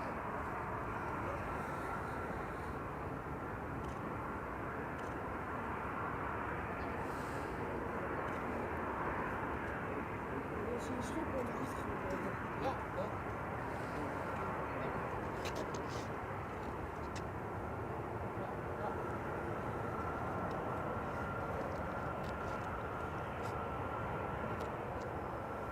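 A SkyTeam-liveried airliner on runway 09 at Amsterdam Schiphol rumbles with a steady, broad jet engine roar, distant and constant throughout with no sharp peaks.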